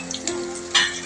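Sliced onion, bay leaf and curry leaves sizzle in hot oil for a Malvani-style spicy misal, a close crackling fry with bursts of louder spattering as ingredients hit the pan.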